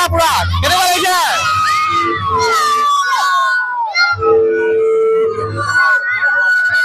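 Schoolchildren shout, whoop and cheer together at the opening of a new children's park at a government school, a loud, close burst of excited voices rising and falling with shrill calls.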